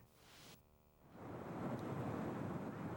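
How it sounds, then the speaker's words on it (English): The Bear River spills out into Little Traverse Bay at Petoskey, a faint broad wash of moving water and wind that swells after a brief lull and holds steady. "It's the Bear River spilling out into Little Traverse Bay at Petoskey"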